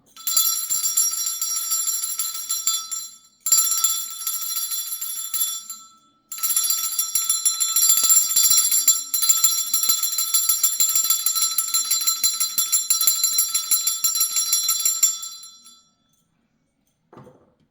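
A dirty bell rings in a sustained, shimmering trill, stopping briefly twice before ringing on at length, then a faint tap at the end.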